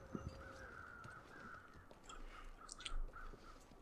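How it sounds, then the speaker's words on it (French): Crows caw in the snowy wilderness of the survival game The Long Dark, a few faint calls over steady ambient wind and a soft tonal drone, with no talking. "Il y a toujours des corbeaux."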